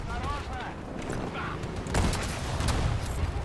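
Explosion in the video game Battlefield 2042, a loud booming blast amid gunfire-like crackle, surging midway through and staying dense, with a player's voice talking over it.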